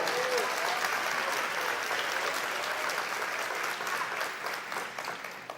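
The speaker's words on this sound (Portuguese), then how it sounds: "Aplauda o nome dEle." A church congregation applauds in a steady, dense wash of clapping that carries on for several seconds, gradually thinning slightly toward the end.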